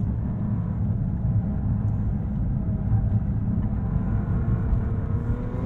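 A 2022 Bentley Continental GT Speed is driven hard into a curve with its 10-piston brakes clamping, heard from inside as a loud, steady low engine and road rumble with no speech.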